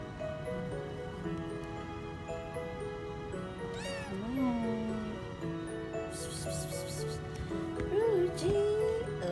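A friendly stray cat meows several times, close and clear, across a few seconds, with a steady background hum and occasional rustling.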